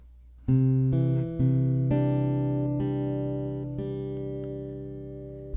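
An acoustic guitar picks the intro measure of a song, a handful of clear single notes and one paired pluck ringing into each other, sustaining and slowly fading, played alone up close.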